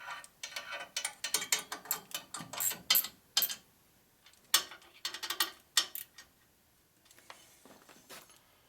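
Ratchet clicking as a bolt is tightened on a Harley M8 cylinder head, with bursts of quick close pawl clicks separated by short pauses, fairly quiet and alone.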